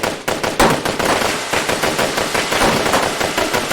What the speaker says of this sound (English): the ceaseless sound of gunfire completely muffled her voice.